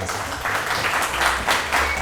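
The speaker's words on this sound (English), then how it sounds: "Can we run a applause for our panelists, please?" Audience at a panel discussion on the Windrush scandal at a London jerk festival applauding the panelists, a dense wash of clapping with low background rumble, steady and moderately loud.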